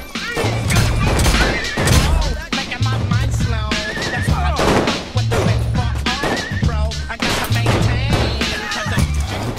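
Rapid gunfire and impacts from the video game Saints Row 4 crackle in dense, loud bursts that carry on throughout, layered over heavy rhythmic music with no pauses.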